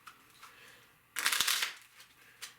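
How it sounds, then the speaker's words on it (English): A deck of 52 poker playing cards being shuffled, one quick riffle burst of rapid fluttering card flicks, fairly close and quiet, set between faint room noise. "If you have an entire deck of 52 poker playing cards and you shuffle them"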